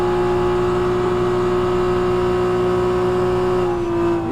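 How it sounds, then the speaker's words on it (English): A GT3 race car at Daytona Road Course in a sim racing game, its engine a loud, steady, close-up drone that holds a constant tone and eases slightly at the very end as the driver lifts off. "You're going to hear him get out of the throttle right here."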